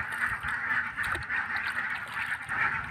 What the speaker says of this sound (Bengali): এখনই হাঁসগুলো ছাড়া হবে এই খাবারগুলো দিয়ে